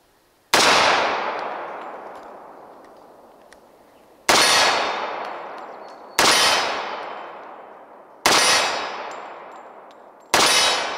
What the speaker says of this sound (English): I'm going to try one of the different steel targets so it may sound a little different.